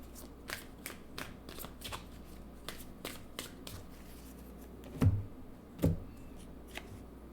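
Tarot cards being shuffled and drawn from a deck make soft, quick riffling flicks in a rhythmic series, followed by two louder slaps as cards are set down, close and quiet with no talking.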